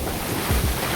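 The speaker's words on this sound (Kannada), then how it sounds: "ಅಲೆಗಳು ಮಸ್ತಾಗಿ ಬರ್ತಿದ್ದಾವೆ ಇಲ್ಲಿ" Sea waves roll in on a beach with a loud close surge and wash, heavy wind rumbling on the microphone, and no voices.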